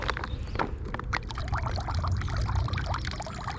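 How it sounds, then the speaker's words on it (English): Fish-bait blood and oils poured into a lake for pike fishing: a steady liquid trickle and splashing into water, close and fairly soft, with small drips and outdoor background. "Get some of the blood in the water as well."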